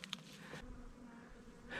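Honey bees buzzing around hives in a bee yard of sixteen colonies in early May, a faint, steady hum with a few brief nearer passes.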